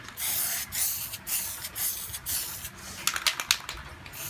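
Spray paint hisses in repeated bursts onto an old thermos being restored, several long sprays separated by short pauses, then a quicker run of short spurts near the end, close and fairly loud with no talking.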